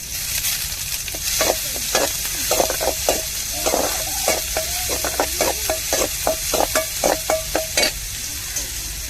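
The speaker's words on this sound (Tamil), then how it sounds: "இப்போ வந்து கொஞ்சம் பூண்டு சேர்த்துக்கிடுவோம்" Garlic fries in hot oil while a spoon stirs it in the pan, giving a constant sizzle broken by quick, rhythmic scraping strokes that repeat close up throughout.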